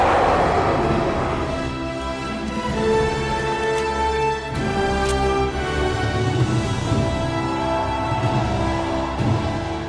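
A theme played in its normal orchestral form, a full, sustained swell of brass and strings with steady loudness across the passage, no voices over it.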